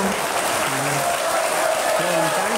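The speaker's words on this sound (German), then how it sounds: "Begrüßen Sie mit mir nun mit einem tobenden Applaus Herrn Professor Bankhofer." A studio audience breaks into steady, full applause welcoming a guest on stage, with a voice speaking briefly over the clapping.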